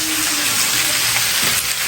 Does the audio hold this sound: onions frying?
yes